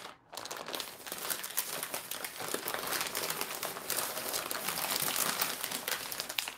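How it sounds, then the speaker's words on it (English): Snack packaging from a grocery haul crinkles and crackles steadily while being handled close by, a continuous, noisy rustle that lasts the whole stretch without talking. "Probably very noisy ruffling going on."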